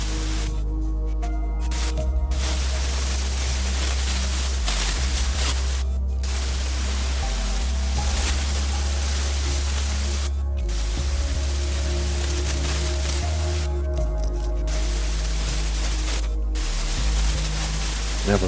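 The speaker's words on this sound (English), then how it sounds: "This is the first time I'd ever used an airbrush as well" An airbrush sprays paint onto an O gauge Hymek locomotive model, a loud, steady hissing spray with brief pauses, over a low humming drone.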